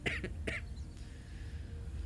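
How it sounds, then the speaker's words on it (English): A couple of quick, faint coughs close by, two short bursts in the first half second, followed by quiet room tone. "you cough, that was like the best cough timing ever"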